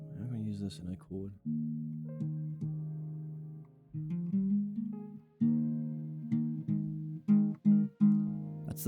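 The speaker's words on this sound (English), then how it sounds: "That's the sound of a perfect fourth." A perfect fourth interval is played as a chord, struck again and again with each sustained tone fading before the next. The chords sound clear and fairly quiet.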